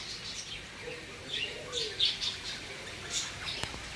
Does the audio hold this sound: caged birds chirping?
yes